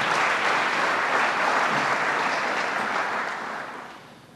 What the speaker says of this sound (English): Now, you can give that a round of applause.